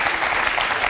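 Brief, dense burst of audience clapping in a French TV comedy show studio, steady and full with no distinct voices over it.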